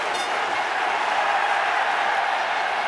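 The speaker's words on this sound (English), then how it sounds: "Just listen to the crowd." Stadium crowd at a Heineken Cup rugby match between Toulon and Leinster, a loud sustained roar of thousands of fans that swells steadily with no break.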